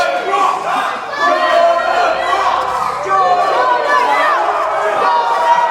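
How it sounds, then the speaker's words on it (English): Crowd at an LDN wrestling show jeers and shouts at a wrestler, a dense, loud wall of voices with calls rising over the mass, while a commentator's voice runs along with it. "And he's very, very much getting heat here from this LDN crowd"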